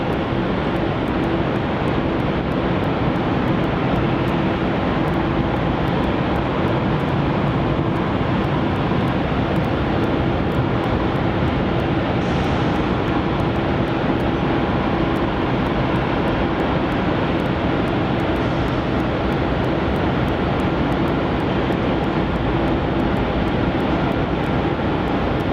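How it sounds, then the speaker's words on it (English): A Boeing 787 Dreamliner departs runway 27 at Melbourne Airport, a steady, even engine rush heard from a distance at moderate level for the whole stretch, with no voices. "we've got a departure off of runway 27 in just a moment"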